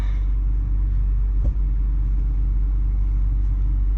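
A BMW 330i four-door sedan with 40k miles engine running at a steady low rumble after being started, close and continuous with a brief louder thump partway through, no talk.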